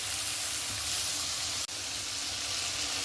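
Two sprigs of curry leaves hit hot oil in a pan for a beef fry, giving a loud, steady, close sizzle with one brief dropout midway.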